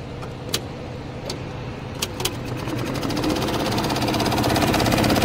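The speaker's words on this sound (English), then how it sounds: "now we can press this button to start embroidery" A Gensen embroidery machine starts up and runs, with a few sharp clicks early on, then a rapid steady mechanical chatter that builds and holds close by.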